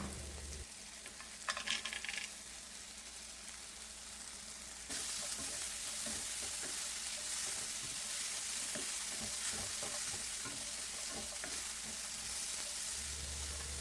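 Half a cup of peanuts roasts in a pan, giving a steady crackling sizzle close by that grows noticeably louder and denser partway through, with faint rattling stirs.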